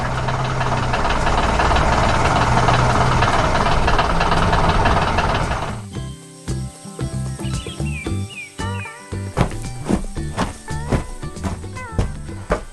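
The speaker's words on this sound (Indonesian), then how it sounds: "Terdengar suara birdring dan suara mesin bekerja, menciptakan suasana yang penuh semangat dan penuh kegiatan." Machine engines work in a busy cartoon city: a dense, loud mechanical roar runs steadily for about six seconds, then gives way to sharp clanks, knocks and scattered bird chirps.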